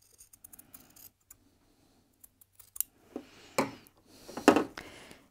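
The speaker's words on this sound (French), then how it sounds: "Je vais couper l'excédent avec le ciseau." Scissors snip away excess fabric during quilt-block sewing, with a few light clicks of handling and then several close, crisp cuts toward the end.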